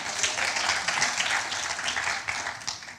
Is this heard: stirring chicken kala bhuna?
no